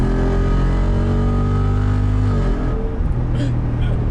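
A Jeep Wrangler 392 with its 6.4 liter V8 gives a loud, sustained deep engine roar that holds steady, then dips and settles into a rumbling idle. A voice is heard over it.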